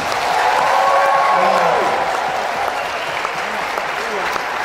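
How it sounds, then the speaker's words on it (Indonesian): A church crowd applauds for the young people in attendance, loud sustained clapping with a voice speaking over it near the start. "Tepuk tangan untuk anak-anak muda kita"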